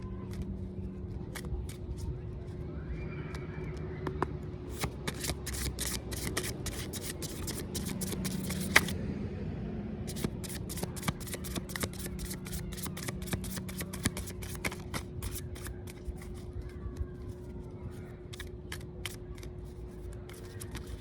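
Tarot cards being shuffled by hand, a long run of crisp riffling snaps and flicks, close and fairly quiet, with a steady low hum beneath and brief soft talk.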